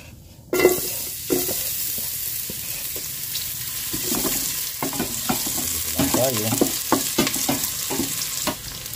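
Garlic and onion hit a hot casserole pan and burst into a loud, close sizzle, then keep frying steadily while a spoon stirs and scrapes with irregular clacks against the pan.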